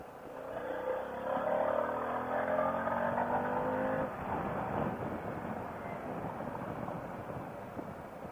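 A Harley-Davidson Pan America ridden on an open road in rural Pennsylvania, the engine pulling up through a gear with a rising whine before settling into a steady, windy cruising roar.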